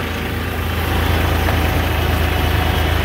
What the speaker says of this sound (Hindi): अब हमारा ट्रैक्टर हाई के फर्स्ट गियर में चल रहा है।